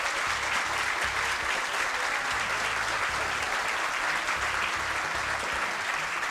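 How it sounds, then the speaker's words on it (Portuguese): An audience at a generosity award ceremony applauds steadily after a third-place prize is announced, a full, even round of clapping with faint low background tones beneath. "Uma salva de palmas."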